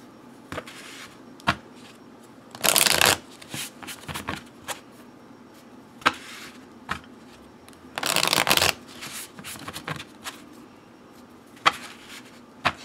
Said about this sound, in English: Now, with Oracle decks, I primarily use 3-card readings, so I'm just going to pull 3 cards.